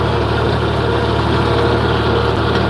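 A John Deere 4020 farm tractor idles with a steady low diesel rumble, continuous and close, on planting day for certified organic corn.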